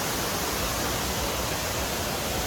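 A waterfall in Bali roars as a dense, unbroken wash of rushing water, even and continuous with no voices.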